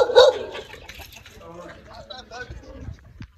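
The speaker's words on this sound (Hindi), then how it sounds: "चलो तो कुत्ता है" A dog in a village barks and yips a few times close by, mixed with people talking.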